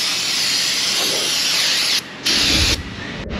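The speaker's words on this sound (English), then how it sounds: "Spray all that old oil out of there." A strong hissing spray blasts old oil off an engine part of a Toyota Sienna 3.5, loud and continuous at close range with brief pauses and restarts near the end.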